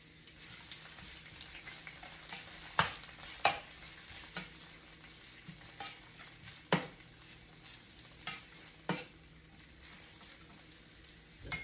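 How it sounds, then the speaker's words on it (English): Vegetables stir-frying in a hot pan before beef and broccoli, a quiet continuous sizzle broken by several sharp clanks and scrapes of stirring, with no voices. "We're going to put the vegetables in."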